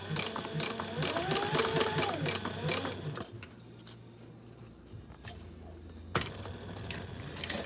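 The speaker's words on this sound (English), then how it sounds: "I don't know if there's a way to stop this machine with the needle down." A sewing machine stitches a strap in bursts of rapid needle clatter with a whirring motor, pausing partway and then starting again briefly, close and moderately loud.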